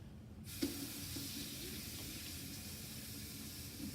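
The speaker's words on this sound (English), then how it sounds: "I'm gonna rinse it off." Steady running tap water splashes while a metal etching plate is rinsed after a saltwater etching dip, a continuous even hiss lasting throughout with no voices.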